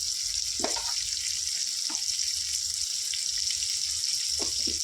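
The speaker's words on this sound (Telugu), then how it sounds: "వీటిని చక్కగా అల్లం వెల్లుల్లి పేస్ట్ పచ్చివాసన పోయేంత వరకు ఈ విధంగా ఫ్రై చేసుకోవాలి" Ginger garlic paste frying with onions and turmeric in a pan for an okra egg curry, a steady hissing sizzle with a few soft stirring scrapes, close and alone.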